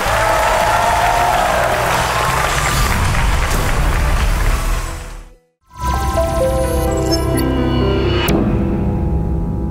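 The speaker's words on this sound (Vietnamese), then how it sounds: "quý vị dành một tràng vỗ tay thật lớn để các khách mời của chúng ta vào trong chuẩn bị" Studio audience applause on a Vietnamese TV game show, loud dense clapping and cheering that cuts out briefly midway, then returns with music-like tonal layers.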